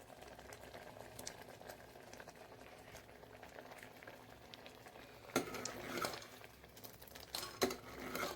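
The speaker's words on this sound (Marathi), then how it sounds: "वरण लावलं इकडे शिजवायला." Dal (varan) simmers on a stove with a quiet, constant bubbling and soft liquid patter, growing a little louder with a few clinks and stirring sounds toward the end.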